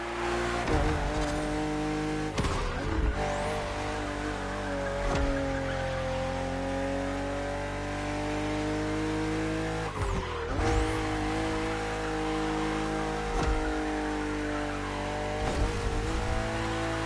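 A BMW M CSL, a 50th-anniversary BMW M model in the racing game The Crew Motorfest, revs and accelerates hard with a loud, rising engine note, sharp gear-change dips and brief tyre squeals, continuous and up close.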